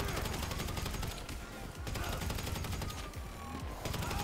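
Rapid automatic gunfire and bursts of shots ring out in a GTA 5 Online firefight, loud and continuous with brief gaps, layered over game sounds.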